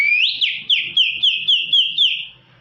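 A man imitates a grey partridge call with a rapid run of about eight clipped, rising whistled notes, loud and close, repeating steadily before fading out.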